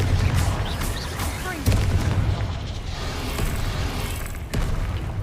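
Confringo fire spells in the game Hogwarts Legacy burst in heavy, rumbling explosions, several booms in a row amid constant battle noise, while a voice calls out over them.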